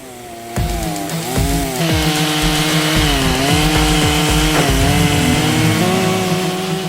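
A chainsaw cuts a freshly hauled paulownia log to length for a wooden jar, running loud and close with a steady engine drone and repeated load changes as the chain bites into the wood.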